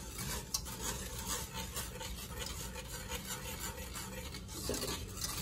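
BBQ sauce low-boiling in a pot on the stove is stirred with a utensil, giving soft continuous scraping and rubbing with a faint sizzle, quiet and close, with no talking.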